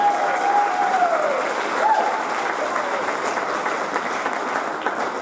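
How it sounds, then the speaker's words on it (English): An audience at a school music festival applauds the art department with loud, dense clapping that continues steadily throughout, with a voice briefly heard over the start. "one last round of applause for the art department"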